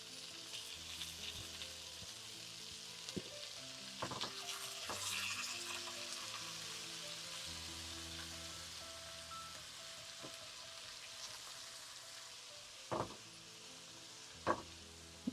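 Salmon fries in a pan with chopped parsley stirred in, giving a steady, quiet sizzle throughout, broken by a few sharp clicks and taps toward the end.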